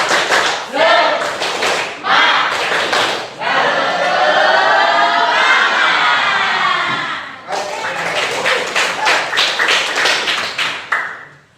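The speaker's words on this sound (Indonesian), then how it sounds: "Tepuk semangat." A classroom group performs the rhythmic "tepuk semangat" spirit clap as an ice-breaker, loud bursts of patterned claps alternating with chanted group voices and a long sustained shout in the middle.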